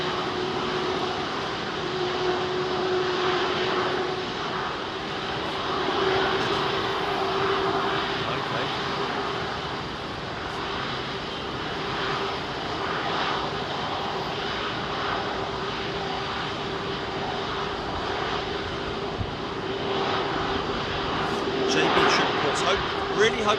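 An airliner departs London Heathrow runway 27R at close range, a steady broad jet roar with a sustained engine tone holding across the whole stretch, while people talk over it.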